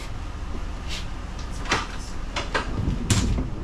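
Hidden storage compartment door in a motorhome being opened and shut, a few short close knocks and clicks over a steady low rumble.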